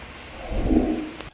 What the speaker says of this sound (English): the rain's a bit too strong